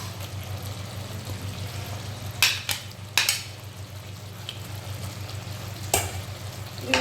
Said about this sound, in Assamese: এতিয়া আদা নহৰু পেষ্টখিনি দি দিম মই।